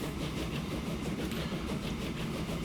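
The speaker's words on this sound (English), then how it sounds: "How's that train doing over here?" A train rolls along the tracks in the railway-building game Transport Fever, a dense, continuous rumble with a faint rhythmic clatter, steady and close throughout.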